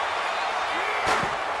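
A steel chair slams onto a wrestler's head in WWE 2K26, one sharp metallic smack and a quick rebound hit rising over steady crowd and commentary noise.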